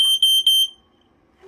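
A Lifesaver 0905 smoke alarm under test gives a few loud, shrill pulsing beeps at close range, then cuts off into near silence.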